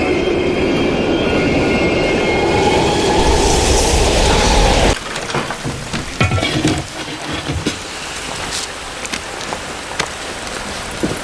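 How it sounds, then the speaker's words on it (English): Train rumbling past in a Black Ops Cold War cutscene set in abandoned East German stations, a loud steady roar that cuts off abruptly, followed by quieter clatter, footsteps and scattered clicks. "We can use a train to slip past."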